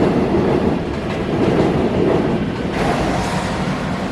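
A Seoul subway train pulls away from the station, a steady broad rumble of wheels and motors running loud and continuous, with a slight shift in tone near the end.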